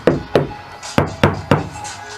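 Five dull, solid knocks land on a Ram ProMaster van panel covered with Kilmat sound-deadening material, spaced irregularly and close, each thud dying quickly with no talking.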